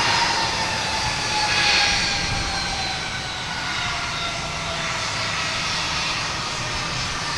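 A jet airliner taking off at Boston Logan Airport, its engine roar a steady, loud broadband rumble that swells slightly early and then holds throughout, with no voices over it.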